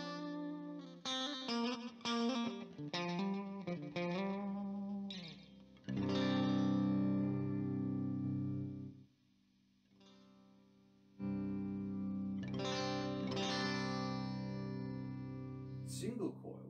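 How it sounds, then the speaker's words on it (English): An electric guitar with a humbucker split to single coil, played through fuzz into a British amp. Clean-toned picked notes and chords ring out with chorus-like shimmer, interrupted by a gap of near silence before the playing resumes. "for a sort of like single coil split on a humbucker, this sounds quite... It's still nice sound, it still sounds nice, it still sounds full"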